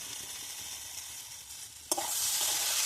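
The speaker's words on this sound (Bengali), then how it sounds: "এবার বাটনা বাটাটা দিয়ে দিলাম, লঙ্কা রসুন আর আদা বাটাটা এর মধ্যে এবার দিয়ে আমি ভালো করে কষে নেব।" A chili, garlic and ginger paste hits hot oil in a pan with a sudden loud sizzle that swells into continuous frying hiss, following a quieter stretch of low background frying.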